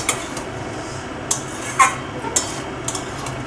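A utensil scrapes and taps against a pan while spiced flat bean and potato curry is stirred and fried, scattered clinks over a low steady cooking background, no talking.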